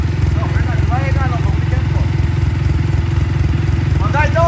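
A motorcycle engine runs close and loud with a steady pulsing rumble that holds at a constant pitch rather than climbing, while people talk over it.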